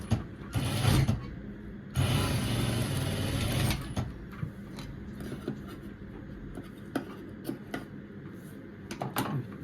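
A sewing machine stitches dress facings together in short mechanical bursts, a rapid whirring run of about a second, then a longer two-second run, followed by quieter clicks and handling noises.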